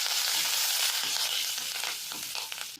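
Spice powder and curry leaves sizzle and fry in hot oil in a pan for a pepper rasam, a steady loud crackling hiss that eases off slightly toward the end.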